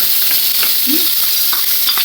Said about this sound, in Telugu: ఉల్లిపాయలు పచ్చిమిరపకాయలు ఇలా తాలింపు వేసుకొని తాలింపు అయితే కొంచెం వేగిన తర్వాత ఇలా వేసుకోవాలి